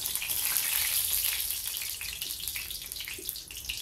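Cumin seeds and a few curry leaves crackle in hot oil while a spiced bean-fritter curry is cooked, a dense, steady sizzle that fills the clip and eases slightly toward the end.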